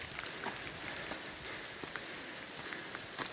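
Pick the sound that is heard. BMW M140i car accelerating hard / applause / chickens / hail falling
hail falling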